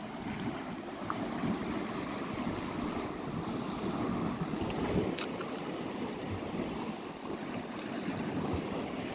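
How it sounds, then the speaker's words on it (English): A river flows outdoors as a steady, broad rushing wash, continuous and fairly faint, with wind buffeting the microphone and no speech. "I love that sound from the river."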